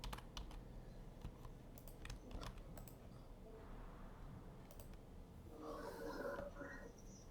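Someone types code on a computer keyboard, with soft close key clicks coming in quick bursts and short gaps, quiet and without talk.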